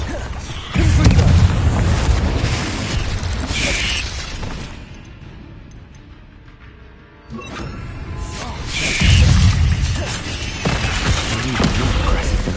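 Fire-spell explosions in the PS5 game Hogwarts Legacy, deep booming blasts with crackling debris that erupt in two loud bursts separated by a quieter lull, mixed with game voices and combat noise.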